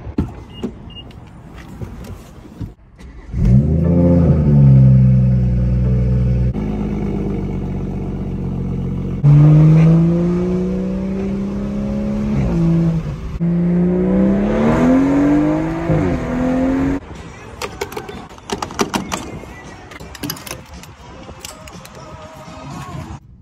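Tuned stage 2+ BMW M240i running 93 octane pulls hard under acceleration, its engine note rising through the revs in loud, sustained sweeps with a brief lift between pulls, heard close from inside the car with no talking.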